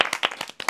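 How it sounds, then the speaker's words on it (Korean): A handful of sharp, distinct hand claps in quick uneven succession, close and fairly quiet, during a casual talk among friends. "박수 한번 줘"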